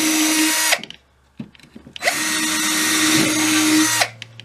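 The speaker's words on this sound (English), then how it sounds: "drill each side out so these will fit in." A power drill whirs at high speed in two long bursts, loud and close, widening pilot holes in a cigar box for eye bolts, with a short pause between them.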